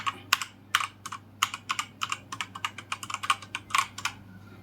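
Keys clack on an Ant Esports MK3500 mechanical keyboard, a rapid, uneven run of sharp, close clicks at typing pace with a low steady hum underneath.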